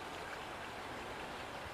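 Water spilling over the full rim of a rainwater retention basin fed by mountain runoff, a steady broadband rushing and splashing flow with no pauses, close and constant with no talking.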